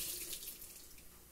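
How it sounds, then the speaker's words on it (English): Running tap water pours into a sink as small cherry tomatoes get a quick rinse, a continuous close splashing hiss without talk. "Give them just a quick rinse."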